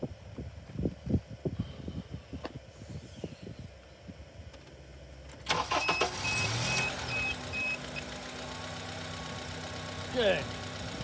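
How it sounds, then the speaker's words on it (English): A car engine is cranked and starts partway through, then settles into a steady idle that runs continuously in the background. It is preceded by a series of clicks and knocks, with a brief rising whine near the end. "Okay, start the car."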